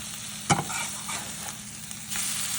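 A vegetable omelet fries in a lightly oiled pan, a close steady sizzle broken by a sharp scrape of the spatula and a few softer scraping strokes.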